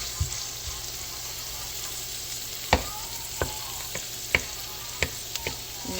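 Tomatoes being crushed and mashed as they sauté in a pan for binagoongan, with a steady low sizzle broken by sharp, scattered taps and scrapes of the utensil against the pan.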